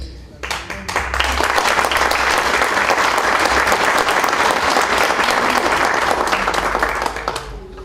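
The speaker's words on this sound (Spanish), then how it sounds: "Nuevamente vamos a brindarles el aplauso que se merecen, por favor, para los 3 artistas invitados" An audience at a cultural program applauds three guest performing artists, a dense sustained wash of clapping that swells quickly after a second and holds steady until it thins out at the very end.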